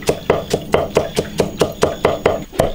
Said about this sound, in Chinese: 剁点大蒜，把它剁碎一点